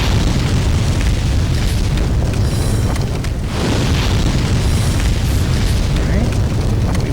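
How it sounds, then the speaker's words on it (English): A dragon in Demon's Souls on PS3 breathing fire down from above, a loud, sustained roaring blast with booming, rumbling bursts that fill the whole stretch, dipping briefly midway before surging again. "the dragon will breathe fire directly down on you"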